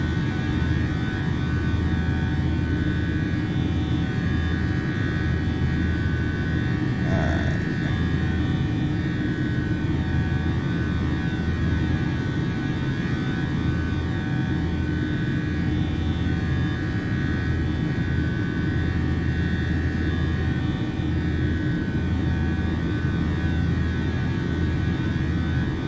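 PMDG 737-800 airliner departing in Microsoft Flight Simulator, a constant loud engine roar and rushing drone that holds steady throughout, with no voices.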